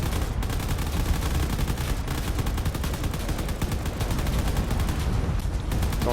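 Rapid automatic gunfire hammers turrets in a drone combat video game, a dense, relentless stream of overlapping shots and bursts at close range that keeps going throughout.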